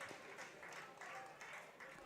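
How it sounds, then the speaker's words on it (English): Baseball fans applaud in a college stadium during a Michigan versus Rutgers game, a faint, distant, steady patter of clapping that rises and falls in waves without stopping. "Fans applaud as he stays on second base"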